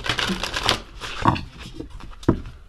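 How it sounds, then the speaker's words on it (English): Oracle cards being shuffled by hand, a soft papery riffle of brief rustles and taps close up, with a few sharper card snaps standing out in an otherwise quiet room. "let's get some oracle cards"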